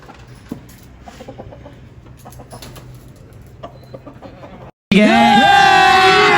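Chickens cluck and squawk loudly up close in a sudden burst after being let out to roam free, following a stretch of quiet, low background noise.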